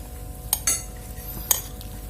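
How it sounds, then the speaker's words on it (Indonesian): A spoon stirs ketupat sayur, a Padang-style rice cake and vegetable stew with added glass noodles, scraping and clinking against the bowl in a few sharp, sparse taps close by, without any talk. "Saya aduk dulu ya."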